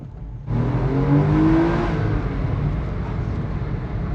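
Porsche 986 Boxster S flat-six pulling hard in a low gear, loud rising engine note that bursts in suddenly then settles into a steady drone, heard alone from inside the car.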